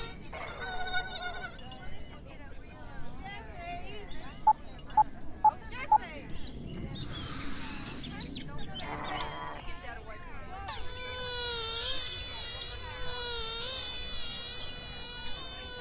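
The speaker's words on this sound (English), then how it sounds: "Imagine a backyard free of pesky mosquitoes." Thin, high whining buzz of mosquitoes hovering and drifting in pitch, mixed with brief chirpy tones and a dense burst of insect drone toward the end, with no speech.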